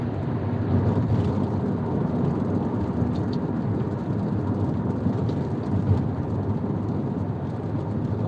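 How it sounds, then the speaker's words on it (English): Heavy rain pours on a car driving the road from Kyoto to Tottori in Japan, a steady dense roar of water and road noise with no break. "Basically, there's a lot of rain."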